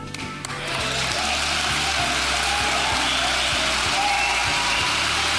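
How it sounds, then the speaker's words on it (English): A lecture audience breaks into applause, a dense, sustained wash of clapping that swells in after a short quiet start and carries on steadily, loud and close. "Why are you all applauding about that?"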